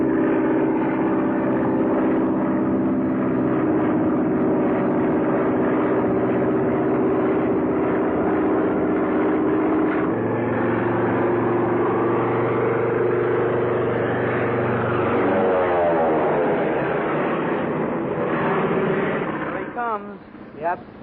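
Propeller airplane flying in from a 1938 film, a steady droning engine roar under continuous speech, holding throughout and fading near the end.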